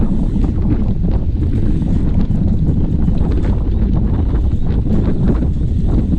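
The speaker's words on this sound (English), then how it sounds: "The wind is coming from the right and in our face." Strong wind roars across the microphone during a group road bicycle ride, a loud constant buffeting rumble with gusty noise and no voices.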